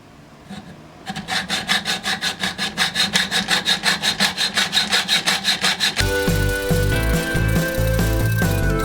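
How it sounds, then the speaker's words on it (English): A plain hacksaw cuts through a metal nut in a steady run of close, rhythmic rasping strokes, roughly two per second, then shifts to a denser, continuous grinding scrape. "I'm going to use a hacksaw, just a plain hacksaw here. And I'm going to use it to remove a lot of this metal here on the one side."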